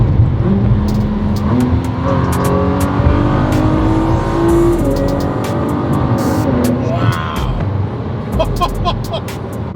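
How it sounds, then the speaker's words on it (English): A hypercar engine roars hard under load, holding a sustained high-revving drone at the rev limiter with sharp crackles, as a voice briefly exclaims over it. "The rev limiter just keeps going and going and going."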